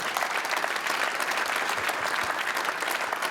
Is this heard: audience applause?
yes